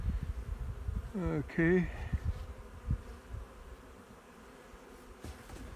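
Bees buzzing around small queen mating boxes holding three frames each, a close wavering drone from a few insects passing by amid low outdoor noise, with a short spoken word.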